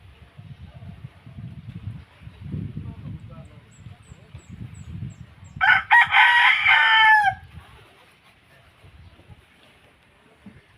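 A rooster crows loudly once for about two seconds, standing out over quiet background chatter and soft voices in Valencia and Dimiao, Bohol.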